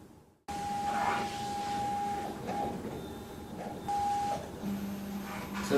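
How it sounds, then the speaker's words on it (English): A MAX Bepop CPM 200GU label printing and cutting machine runs steadily, a continuous mechanical hum with brief whining tones and shifting motor pitch, close and unbroken throughout. "So now that the printer has finished printing all of the data"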